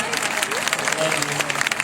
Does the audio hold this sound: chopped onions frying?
no